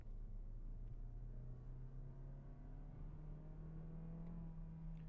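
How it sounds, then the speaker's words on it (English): A 2023 Mazda CX-30 G20e hybrid SUV's engine revving up steadily as it accelerates from 50 to 80 km/h, a smooth rising hum heard from inside the cabin. "let's test some acceleration in 3, 2, 1, from 50 to 80 kilometers."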